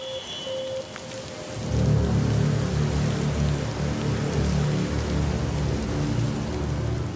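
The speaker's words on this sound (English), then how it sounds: "A professional rain machine was on hand to simulate the heavy rainfall." A professional rain machine pours heavy artificial rainfall onto a piece of heavy artillery, a dense steady roar of falling water that swells after a quieter start and holds loud and constant, with no voices.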